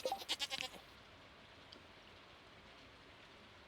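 Several short, faint sheep bleats from the farm game Stardew Valley open the moment, then fade into a steady soft backdrop like light rain, with one last brief call at the very end.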